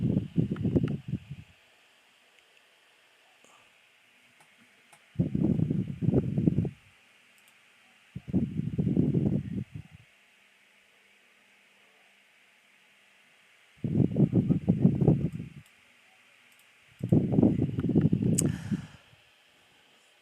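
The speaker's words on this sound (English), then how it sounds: "It sounds windy in there." Wind gusts buffet the microphone at a Blackpool v Sunderland football stadium, coming in five low, rumbling bursts separated by near-silent gaps over a faint steady hum.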